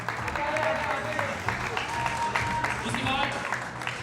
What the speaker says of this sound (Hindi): प्लीज जोरदार तालियां